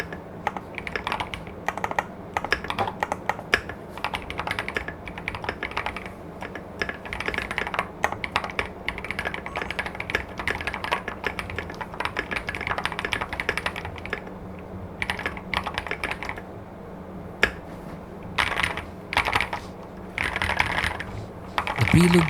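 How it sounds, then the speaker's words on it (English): Typing on a Kiiboom Phantom 81 V2 mechanical keyboard with preloop crystal switches, a close, steady, fast stream of clacky keystrokes that runs for over twenty seconds with brief pauses and no talking. "The preloop crystal switches feel smooth and responsive, delivering a nice clack without being too loud."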